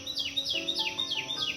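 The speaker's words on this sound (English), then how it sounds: "Carolina wren." A Carolina wren sings a rapid, ringing phrase of five or six repeated slurred notes in an even rhythm, clear and fairly close in the early morning with no voices.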